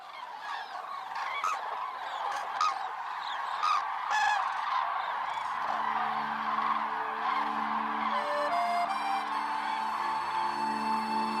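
Common cranes on the Hungarian puszta call as they set off south, a chorus of loud honking and trumpeting bugles overlapping continuously at middle distance, with a steady drone underneath.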